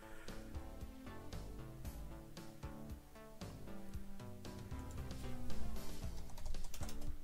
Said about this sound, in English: I was just typing in the general's chat to wait for the official start.